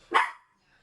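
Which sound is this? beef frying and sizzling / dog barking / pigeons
dog barking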